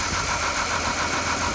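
Neglected Ford BF Falcon XR6 engine idling steadily, with a continuous rough mechanical clatter from the top end suggesting oil starvation, heard close and loud without any voices.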